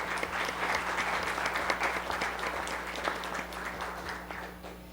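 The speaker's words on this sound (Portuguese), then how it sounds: "eu peço uma salva de palmas a essas pessoas que lutaram pela democracia" An audience at a public hearing applauds with steady, sustained clapping that tapers off slightly near the end.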